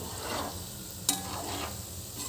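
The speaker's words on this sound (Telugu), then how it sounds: "ఇలా గోల్డ్ కలర్ వచ్చే వరకు ఈ ఉండలన్నీ అయితే ఆయిల్లో వేపేసుకుంటాను" Gulab jamun dough balls deep frying in hot oil, a steady low sizzle and bubbling throughout with one brief sharper crackle partway, no voices.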